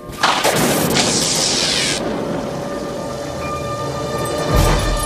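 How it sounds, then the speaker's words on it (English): A thunderstorm sound effect from a Tintin radio drama plays loud and continuous: a dense hiss of heavy rain with a crack and long rolling rumble of thunder, then a deeper boom near the end, with no voices. "it is extremely dangerous to telephone during a thunderstorm"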